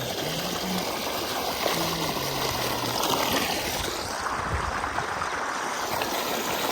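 A running pump motor pours water into a rice field, making a continuous rushing, gurgling flow at an even level, with a faint low hum beneath it.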